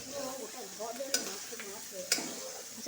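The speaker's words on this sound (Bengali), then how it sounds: "ছেটকাচ্ছে তো ওই পাবদা মাছটা ভেজেছো তেল ছিটকেছে" Oil spattering in a pan after pabda fish was fried, with spices and fish being stirred in; a soft continuous sizzle with two sharp utensil knocks, and a faint voice murmuring beneath.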